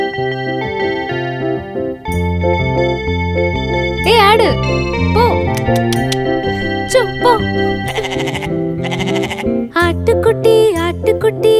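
A lamb bleats repeatedly with a wavering, vibrato-like cry inside a Tamil children's song, set over steady melodic accompaniment and a child's singing, loud and upfront.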